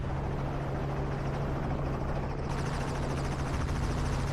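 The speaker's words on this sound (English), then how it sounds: "The helicopter circled, looking down at the torn-up patches of land." A helicopter flies overhead with a loud, steady rotor drone and rhythmic blade chop, heard close and continuous with no other sounds over it.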